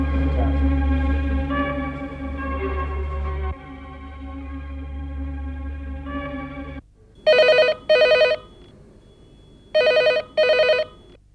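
Two pairs of electronic telephone rings come from a phone in a domestic drama scene, each pair a quick double burst. They follow a stretch of sustained music, and no voices are heard.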